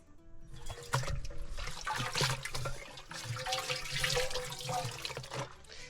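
Running water splashes steadily over a raw goat skin being washed by hand, a close, continuous gushing and trickling with no talk.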